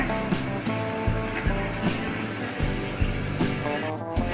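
Thick curry bubbling and popping steadily in a pan, a soft continuous simmer with irregular small bursts, close by.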